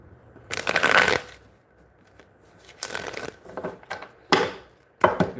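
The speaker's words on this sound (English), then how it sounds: "Give me two more shuffles, Archangel Michael." Tarot cards being shuffled by hand in several separate bursts of riffling and crisp papery flicks, separated by brief quiet pauses, close and fairly loud with no talking.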